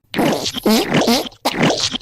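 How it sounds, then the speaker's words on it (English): Loud, close farting noises blurt out in quick buzzy bursts, two long wobbling ones and then another after a brief gap. "It's full of awful farting animals and various stinky hippos"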